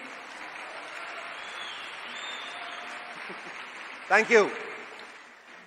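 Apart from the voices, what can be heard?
audience applauding the Ola Electric team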